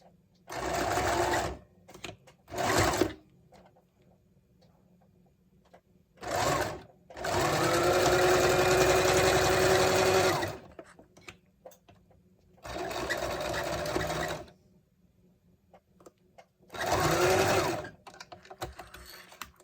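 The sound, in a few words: sewing machine back stitching a fabric face mask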